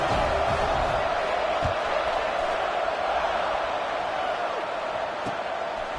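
A football stadium crowd at a Sooners game waits for kickoff, its steady, dense roar filling the air evenly at a loud level throughout.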